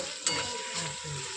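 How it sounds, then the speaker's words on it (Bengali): Onions frying in oil in a wok while being stirred, a soft steady sizzle with a brief scrape of the spatula near the start and faint clinks of utensil against the pan. "এখন কিছুক্ষণ নেড়ে চেড়ে নেব।"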